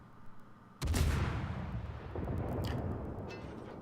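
Heavy naval guns on a Russian Udaloy-class destroyer in a naval video game, a sudden loud boom followed by a long rumbling, crackling decay with further distant reports trailing behind.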